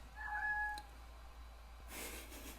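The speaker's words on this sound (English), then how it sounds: "My cat's meowing." A house cat gives one drawn-out meow near the start, fairly close and clear, followed by quiet room tone and a soft rustling noise toward the end.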